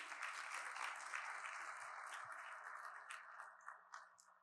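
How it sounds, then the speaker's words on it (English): An audience at a Miami benefit event applauds a keynote speaker, moderate and steady clapping that gradually tapers into scattered individual claps. "Please give him a round of applause."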